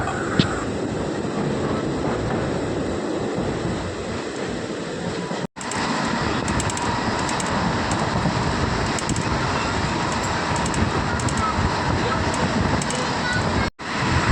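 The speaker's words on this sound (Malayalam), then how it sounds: "ട്രെയിൻ നല്ല പറത്തിയടിച്ചാണ് പോകുന്നത്" Loud, steady rumble and rattle of the Kozhikode Jan Shatabdi Express running fast without stopping, continuous broadband roar with a brief dropout, heard from close by.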